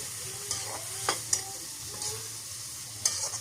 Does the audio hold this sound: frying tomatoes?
yes